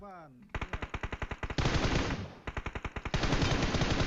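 Automatic weapons fire in the mobile battle-royale game PUBG Mobile: a rapid burst of evenly spaced shots, then dense sustained firing, another quick burst and more heavy gunfire, all loud and close.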